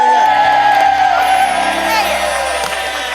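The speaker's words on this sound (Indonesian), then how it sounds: "Tepuk tangan untuk mereka semuanya." Studio audience on the Indonesian game show Family 100 cheering loudly, with whoops and shouted voices over a busy crowd roar. The noise stays full and energetic through the whole short stretch.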